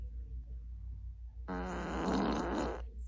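A wet fart sound effect played by an Amazon Alexa smart speaker bursts out loud and alone for over a second after a quiet stretch, with a fluttering, squelchy texture.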